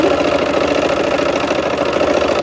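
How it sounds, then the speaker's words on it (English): A sewing machine stitching quilt block seams runs in a continuous, even mechanical whir, loud and close with no voices over it. "so we'll go ahead now and sew our seams"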